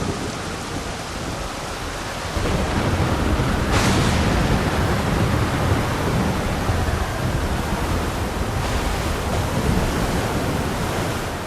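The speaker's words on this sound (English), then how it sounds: "I have not seen the ocean rage with such fury before or since." Raging ocean waves in the game Final Fantasy 14 Dawn Trail roar as a dense, unbroken wash of noise that swells louder after a couple of seconds, with occasional heavier surges crashing in.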